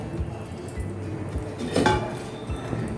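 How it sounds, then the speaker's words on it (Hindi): Fried raw-banana koftas dropped into simmering gravy in a pan, with a few close clinks and clatters of utensil against cookware over a low, steady kitchen background. "अब हम इसमें डालेंगे जो कोफ्ता फ्राई करके रखे थे"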